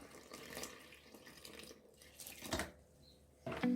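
Water pours and trickles steadily into a bowl, with a few splashy surges and faint dripping, quiet and close.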